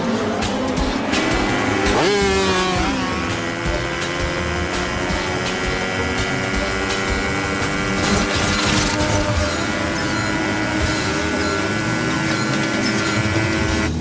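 A loud, continuous motorcycle engine roar with rising revs and a sharp squeal near the start, sustained throughout at close range, as a rider lifts the bike.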